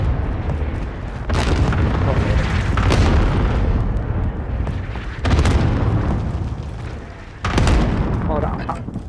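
Cluster strike explosions in Call of Duty: Modern Warfare, with several loud, deep booms arriving in separate bursts and each one rumbling on before the next hits, under steady game noise and some voice chat.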